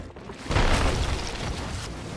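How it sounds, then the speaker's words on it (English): A ship's cannon fires in the Sea of Thieves video game: a single deep boom bursts out and then rumbles away into a sustained, fading roar. "Cannon."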